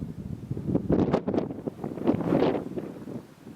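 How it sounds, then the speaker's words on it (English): Gusts of wind buffet the microphone on a hilltop at a Hopi petroglyph site, rising and falling in rumbling bursts with no one speaking. "Now it's windy up here today"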